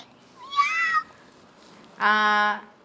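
A voice makes two meowing cries in imitation of a cat, separated by a short pause.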